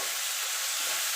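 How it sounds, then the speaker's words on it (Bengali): Masala spices, with a little sugar, sautéing in a pan for a jackfruit curry, giving a brief, even sizzle and frying hiss close by. "এবার মশলাটাকে ভালো করে একটুখানি কষিয়ে নেব।"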